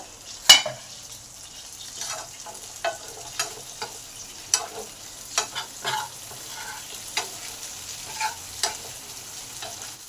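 Sliced potatoes frying in a pan at home while a ridge gourd dish is cooked, with a steady sizzle and repeated sharp clinks of a spatula stirring against the pan, close and fairly loud, with no talking.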